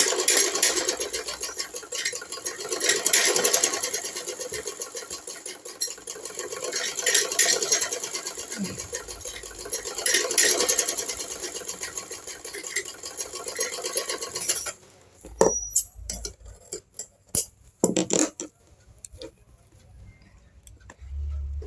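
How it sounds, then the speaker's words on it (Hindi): A sewing machine stitches along the edge of a lined blouse in fast rattling runs with short pauses, then switches to choppy stop-start bursts near the end, close and fairly loud. "अब हमने एक इधर किनारे भी सिलाई लगा लेनी है।"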